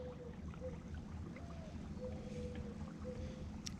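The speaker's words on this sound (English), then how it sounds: "This is what it's like with the trolling motor." A trolling motor drives a fishing kayak across choppy water, giving a steady low drone with faint whining tones drifting over it, heard up close and constant throughout.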